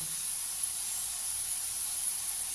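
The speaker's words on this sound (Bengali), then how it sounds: "ওই তেলটার মধ্যে একটু সর্ষে আর কারি পাতা ফোড়ন দেব" Mustard seeds and curry leaves tempering in leftover hot oil for poha, a steady high hiss with faint sizzle throughout, close and unbroken, no speech.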